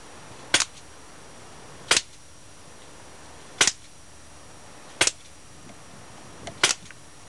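Five sharp, snappy pops from an HFC Mauser airsoft pistol ring out at irregular intervals of roughly one to one and a half seconds, each brief and crisp against a quiet background with no talk.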